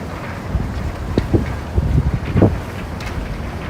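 Strong gusting wind buffets the microphone on a downtown Manhattan street, with low rumbling roar that rises and falls in bursts, loud and close, with no talking.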